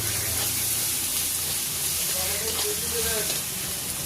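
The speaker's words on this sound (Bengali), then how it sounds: "আর টমেটো দিয়ে দিলাম, একটু কষিয়ে নিই" Onion, green chilli, ginger-garlic paste and tomato sauté in a hot pan with a steady, close sizzle and faint scraping stirs throughout, no voices over it.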